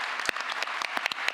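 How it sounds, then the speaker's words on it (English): Applause from a conference audience for the panelists at the end of a healthcare AI session, a steady dense patter of many hands lasting the whole short stretch with a few sharper individual claps. "A big applause for the panelists."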